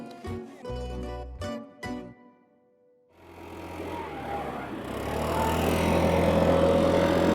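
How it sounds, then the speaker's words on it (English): A leaf blower runs outdoors on a spring day in Florence, a steady broadband roar that swells up after a quiet stretch and holds loud and continuous to the end, following a few earlier clattering, jingling tones. "Why are they using a leaf blower in May?"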